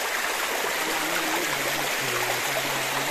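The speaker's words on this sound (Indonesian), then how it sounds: "Jadi tepatnya berada di sungai." A river stream flows steadily near fossil-bearing rocks in a forest, a loud continuous rushing wash with faint low tones underneath, close and without speech.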